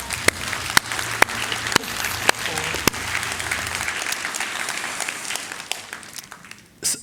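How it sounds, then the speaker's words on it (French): Audience applause during a church talk, a steady clatter of many hands clapping with a few sharp loud claps standing out, fading away toward the end. "On va applaudir avec lui."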